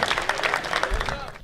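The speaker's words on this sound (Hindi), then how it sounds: "धर्मराज उपाध्याय जी से जोरदार तालियां" Audience at a Hindi comic poetry gathering applauding poet Dharmraj Upadhyay, a short burst of steady, loud clapping that tapers off at the end.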